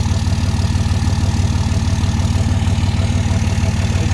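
A RAM 2500 truck fitted with a Diamond Eye exhaust idles steadily, a loud, deep, rhythmic rumble pulsing evenly throughout with no talk.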